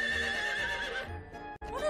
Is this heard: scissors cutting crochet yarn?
no